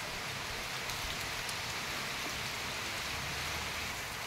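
Steady, dense rain falls without pause, a continuous even hiss with no voices or other distinct sounds.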